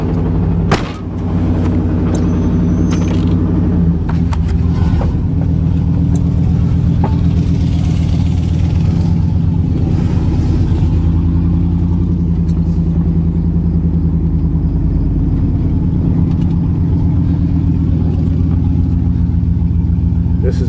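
A Chevy 305 V8 runs steadily at close range, a loud continuous low rumble with a faint ticking knock as the oil warms, holding an even idle throughout with no talk.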